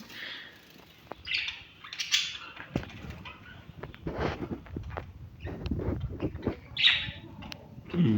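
Pet budgerigars in a large cage chirp and twitter in scattered bursts, with soft rustling and wing flutters between calls, fairly close and without talking.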